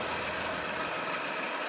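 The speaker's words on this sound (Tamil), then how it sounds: "இன்ஜின் வந்து பார்த்தீங்கன்னா ஸ்மூத்தாக இருக்குங்க" A Volkswagen Polo diesel car engine idling, heard as a steady, close mechanical hum with even vibration and no talk.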